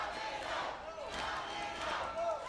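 A wrestling crowd at a CCW Bash at the Brew show in Miami chants for the wrestler Domino, a loud, continuous roar of many voices with rising and falling chant swells filling the hall.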